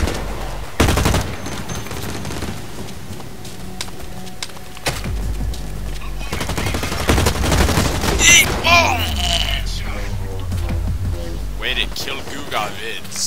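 Gunfire in the shooter game Blacklight Retribution: rapid automatic bursts and sharp shots, loud and close, with electronic whines and swooshes mixed in and a voice talking over it in places.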